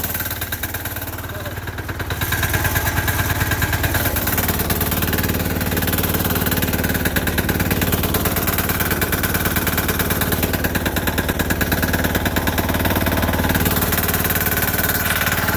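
Sears Suburban garden tractor fitted with a 6HP diesel engine and a snow plow runs steadily and loudly up close, a rough rapid chugging with a firm knock, rising slightly after the opening seconds and holding steady.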